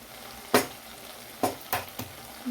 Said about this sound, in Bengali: একটু ভাজা ভাজা হয়ে আসছে তারপরে ভেন্ডিটা দেবো